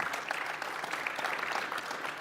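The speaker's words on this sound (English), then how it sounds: "Can we give a round of applause for the folks building the future of DeFi?" A conference panel audience at a blockchain and AI event applauds, heard as a steady, fairly distant patter of many hands clapping that continues throughout.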